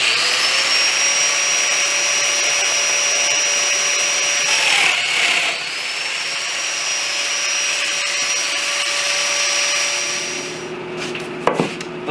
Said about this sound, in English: I'm cutting in my dowels, and I'm using the 30mm dowels for these